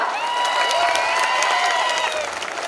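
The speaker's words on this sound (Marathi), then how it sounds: "तर सगळ्यांसाठी एकदा जोरदार टाळ्या होऊन जाऊ द्या." A college audience at a student cultural program applauds loudly and steadily, with many voices cheering and whooping over the dense clapping.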